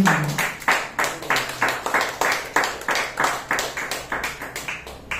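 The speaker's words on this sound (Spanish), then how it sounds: "Dale aplausos al Señor" A church congregation claps together in a steady, even rhythm, roughly three sharp beats per second, with the dense, reverberant sound of many hands in a hall and no voices over it.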